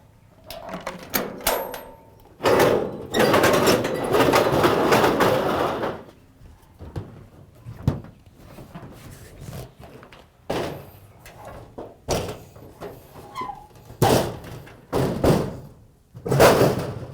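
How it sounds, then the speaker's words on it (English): Latches on a camp trailer table are opened with sharp metallic clacks and thumps, several separate clunks and a long rattling scrape spread across the stretch, close up and loud. "First I open this latch over here. Then I open the latch at the back."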